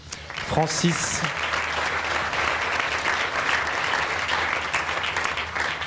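Audience applause at an evening talk event as two invited speakers stand, a steady dense clapping from a large crowd with a few brief voices near the start.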